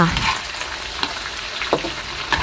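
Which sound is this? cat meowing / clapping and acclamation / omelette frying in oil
omelette frying in oil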